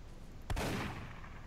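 A single gunshot in the online game Apocalypse Rising, fired into a wall, as a faint short bang with a brief rumbling tail over low background noise.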